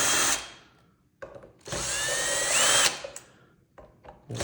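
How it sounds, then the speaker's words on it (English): A power screwdriver whirs in short bursts, then in one longer rising run, as it backs four T15 screws out of a B&O Beolab 4000 speaker, loud and close. "So you can remove these four"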